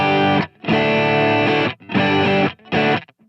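Electric guitar through a hard overdrive pedal on a church pedalboard: thick, saturated distorted chords played loud and close in four sustained bursts separated by brief silences.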